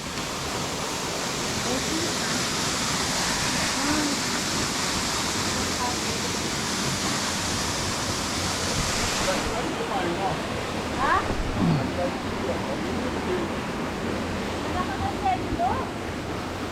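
Periquito waterfall in Presidente Figueiredo, Amazonas, roars as a broad, continuous wash of rushing water close by, with a few brief, faint voices near the end.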